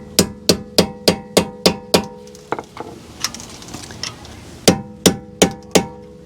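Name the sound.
Lisle mini pry bar unstaking a CV axle flange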